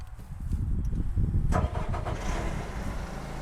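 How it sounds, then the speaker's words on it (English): An aerial lift machine's engine cranks and catches at about one and a half seconds, then settles into a steady idle rumble; loud and close. "I'm going to start the engine back here"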